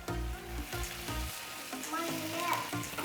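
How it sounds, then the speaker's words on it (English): Pasta for squid ink spaghetti with peas and calamari sizzles loudly in a hot frying pan, a continuous crackling hiss with some stirring and scraping and a few low clunks of the pan near the start. "Put the pasta in the sizzling pan."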